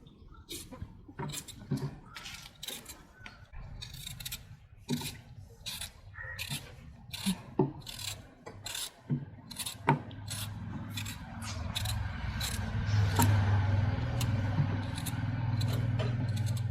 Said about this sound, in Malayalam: പൊട്ടറ്റോ നമുക്കൊന്ന് പീൽ ചെയ്തെടുക്കാം.